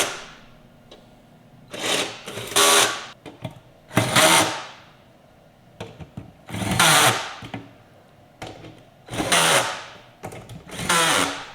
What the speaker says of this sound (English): I use a drill, a ratchet